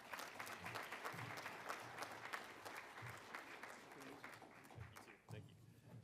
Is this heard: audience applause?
yes